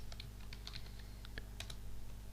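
Command-prompt text typed on a computer keyboard, a quick burst of about a dozen close, crisp key clicks over a steady low hum.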